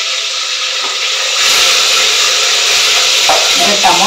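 Chopped tomato dropped into a hot tempering in a pan, the sizzle surging loudly partway through and holding as a steady frying hiss with faint stirring scrapes.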